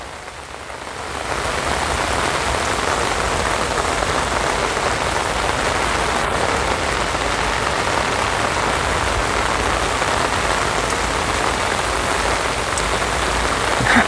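Steady rain pours down throughout, a dense even hiss of drops on surfaces, close and constant with no pauses.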